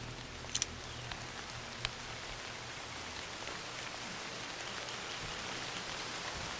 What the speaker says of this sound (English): Got some rain coming down.